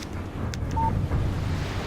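A short electronic chime from a phone receiving a text message in the video game Alan Wake rings once, brief and clear, over soft wind-like background ambience.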